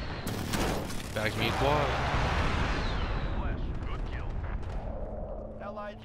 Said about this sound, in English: Calling a precision airstrike on the tank.